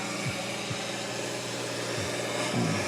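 A 1971 40-20 tractor idling at a fairground barnyard tractor pull, a steady low mechanical rumble with faint knocks, loud and continuous with no one speaking.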